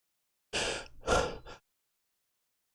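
A person sneezes close to the microphone, making a short two-part burst with a smaller tail, and then the room goes quiet.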